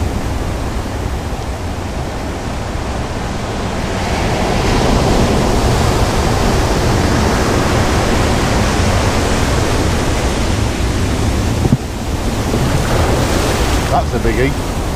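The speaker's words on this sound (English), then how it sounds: "Crashing waves is beautiful," Waves crash steadily on the shore at Withernsea during sea fishing, a loud, continuous surf roar that swells midway and stays broad and close, with a brief dip near the end.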